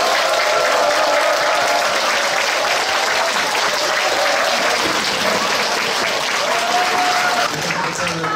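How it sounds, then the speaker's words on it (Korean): Sustained, dense applause from a large seated audience at a company lecture event as the CEO is welcomed to the stage, steady and loud throughout with no pauses. "큰 박수 부탁드립니다."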